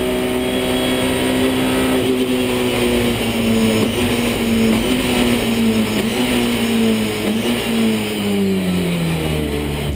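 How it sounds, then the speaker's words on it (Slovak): Touring race cars, BMWs among them, roar at a race restart at the Salzburgring in the FIA ETCC, a loud continuous engine drone with rising and falling revs heard close from inside a car. "A tu je práve reštart pretekov."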